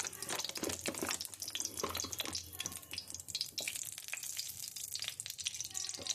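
Ghee melting in a hot pan for carrot halwa, a steady close crackle and sizzle with scattered pops and a low hum underneath, no talking.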